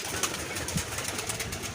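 Pigeons, including young khaki males, flying about a rooftop loft in the morning, with soft wing flutters and a few faint coos over steady outdoor ambience, no talk.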